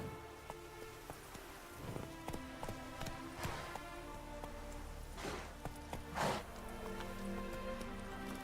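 Hooves of Roach, a horse ridden in The Witcher 3: Wild Hunt, clip-clop in a steady trotting rhythm, fairly close and moderately loud over soft background ambience with no talking.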